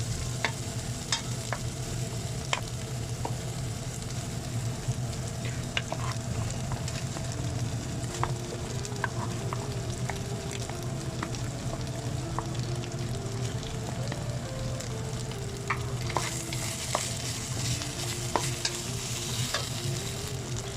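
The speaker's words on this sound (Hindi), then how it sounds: "प्याज ऐड करके तो फिर इसको थोड़ा ब्राउन करके" Minced meat (keema) with onions browning in a pan for a Pakistani aloo keema, giving a steady close sizzle with frequent scraping stirs throughout, and a low background hum underneath.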